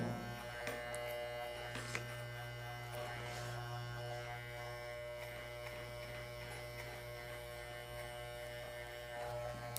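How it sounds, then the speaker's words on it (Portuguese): An electric hair clipper buzzing steadily during a haircut, a close, continuous mains-pitched hum with light scraping as it moves over hair, no voices. "Sempre que possível, repasse a máquina onde você vê que é necessário"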